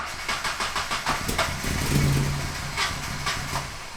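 A Toyota GR Supra in cold weather, low on fuel, turns over with rapid rhythmic cranking and catches briefly into an uneven idle, heard close.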